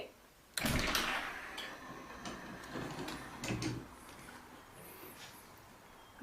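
An automatic door operator swings open a back door, a mechanical whir and clunk starting abruptly and running for several seconds at close range, with a few faint taps and a soft thud as it settles.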